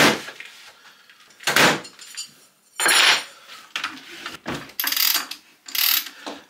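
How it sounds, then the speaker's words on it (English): A ratchet mechanism on a Festool router clicks in several short, loud bursts separated by pauses, each a quick run of metallic ratcheting close to the microphone. "This ratchet system on the Festool router almost makes having a Festool router worth it for that alone."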